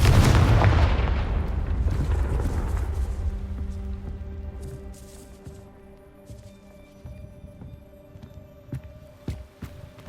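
A Confringo fire spell in Hogwarts Legacy detonates with a loud booming blast that rolls off into a long decaying rumble, followed by faint scattered debris and ambient game sounds, no talk.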